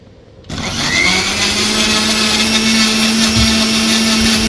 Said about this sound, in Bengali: Agaro heavy duty mixer grinder, এটা হেভি কাজের। এর মধ্যে আমি একটু পেঁয়াজ একদম মিহি করে বেটে নেব